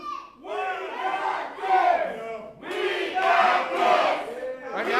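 A wrestling crowd at an independent show roars and shouts in repeated surging waves of jeering at a wrestler, loud and close, with brief dips between bursts.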